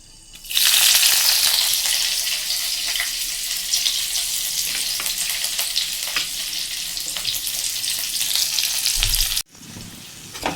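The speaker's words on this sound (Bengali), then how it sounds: "এখন আমি পাঁচফোড়ন দিয়ে দিচ্ছি, একটু নাড়িয়ে নিলাম। আমি আদা এবং কাঁচা লঙ্কা দিয়ে দিচ্ছি।" Panch phoron, ginger and green chilies fry in hot oil with a loud, steady sizzle that stays close and continuous, with occasional stirring, then cuts off abruptly near the end.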